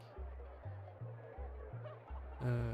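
Chickens clucking in the Secret of Evermore video game, a short evenly spaced series of low synthesized clucks ending in a brighter squawk, faint and alone.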